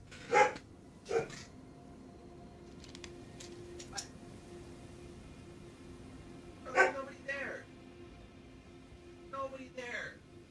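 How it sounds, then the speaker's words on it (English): A dog in a home barks as if someone is at the door, giving short sharp barks in a few separated clusters at moderate distance, with quieter background sound between them. "She's barking like somebody showed up at the door."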